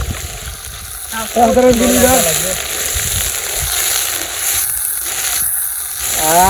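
Onions frying in oil at an outdoor village picnic cooking spot, a steady close sizzle and hiss that runs throughout, with people talking over it.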